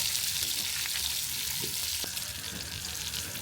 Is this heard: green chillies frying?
yes